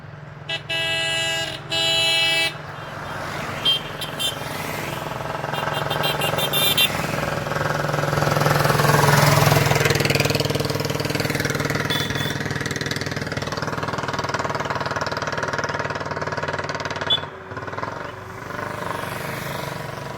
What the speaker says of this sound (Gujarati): અને રિક્ષાનો અવાજ એટલે રિક્ષાનો અવાજ હો